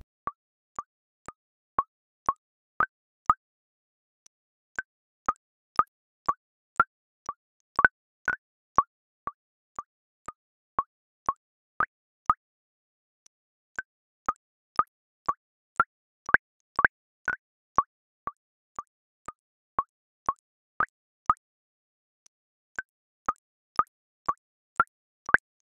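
Computer-generated water sound with simulated microbubbles: a steady series of crisp, isolated plops and droplet blips, fairly close and clear, arriving in quick uneven runs separated by short pauses, with no voices.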